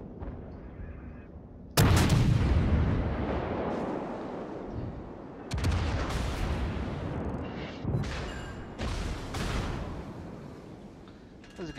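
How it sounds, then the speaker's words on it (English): Naval artillery in the game World of Warships, aboard the battleship HMS Nelson: a heavy salvo of booming gun blasts, several sharp reports spaced across the clip, each followed by a rumbling decay. "That was a good salvo."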